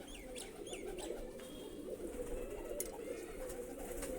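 Low, soft cooing of pigeons murmurs continuously nearby, with a few higher chirps from other birds over the top.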